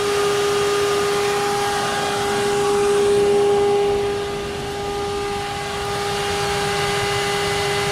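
An electric cooling fan whirs steadily on a hot-soaked 1937 Ford Woody street rod, a constant close drone with a faint steady tone, easing slightly partway through.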